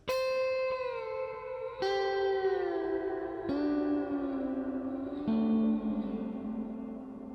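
Slide guitar notes played without right-hand dampening, sliding from one pitch to the next, struck about every two seconds, with ringing overtones and slightly wavering tone between notes.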